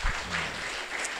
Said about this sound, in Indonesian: Kita sambut mereka dengan tepuk tangan.